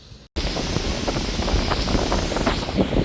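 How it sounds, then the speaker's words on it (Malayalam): Strong wind buffets the microphone on a Lakshadweep island, a loud steady rumbling roar that starts abruptly after a brief quiet moment and continues throughout, with no speech. "നമ്മുടെ കാറ്റടിക്കുന്നുണ്ട്, സൗണ്ട് കേൾക്കത്തില്ല"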